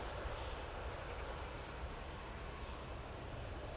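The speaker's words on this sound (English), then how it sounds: "EasyJet, I say, going off to Rhodes now." An EasyJet airliner takes off from Manchester Airport bound for Rhodes, a continuous, loud engine roar that stays steady and unbroken.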